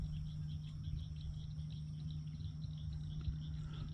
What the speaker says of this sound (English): if you listen closely, you can hear the little froggies, mostly over there